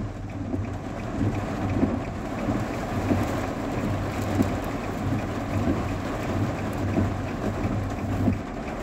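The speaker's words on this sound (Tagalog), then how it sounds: "Lakas ng ulan." Heavy rain pours steadily along a coastal road in Al Khor, Qatar, a loud, dense wash of roaring rainfall with gusty wind buffeting the microphone throughout, no voices.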